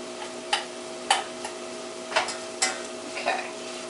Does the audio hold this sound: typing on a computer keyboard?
no